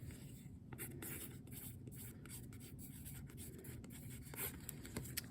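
A pen scratches across a piece of paper in quick strokes, faint and close, with short pauses between bursts of writing.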